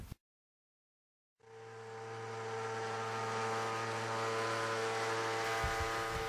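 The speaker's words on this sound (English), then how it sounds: "What you are witnessing is a 200 kilowatt resonant pile driver installing an AZ13 pair into dense sands that are saturated." A 200 kW resonant pile driver drives an AZ13 sheet pile pair into saturated dense sand, rising from silence into a steady loud droning hum with strong sustained tones.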